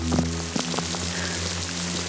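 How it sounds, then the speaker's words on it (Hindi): Steady rain falls on surfaces, a continuous hiss with scattered drop taps and a few soft thuds, over a low constant drone. "और ये बारिश।"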